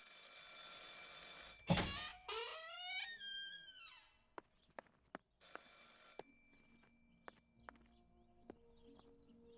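A telephone rings in the video game Martha Is Dead, a bright warbling bell burst that trails off, followed by quiet thuds and clicks of movement in a still room.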